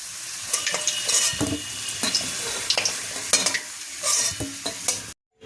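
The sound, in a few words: fried potatoes sizzling, being lifted out of the pan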